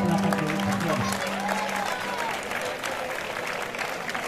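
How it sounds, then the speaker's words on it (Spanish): Crowd applause for participants at the X Legua Castellana de Monleras 2022 running race, steady dense clapping throughout, with a voice talking over it at the start. "Un aplauso para vosotros"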